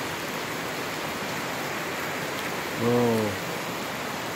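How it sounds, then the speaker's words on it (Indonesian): Afternoon rain falls steadily outdoors, a constant soft hiss at moderate level, and a man's brief short exclamation breaks in near the end. "Ini di luar hujan, sore-sore"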